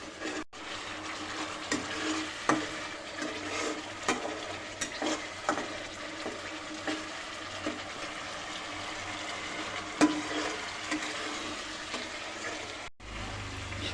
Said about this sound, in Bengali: এবং সমস্ত মশলা দিয়ে দেওয়ার পর আমরা মশলাটা একটু ভালো করে কষিয়ে নেব।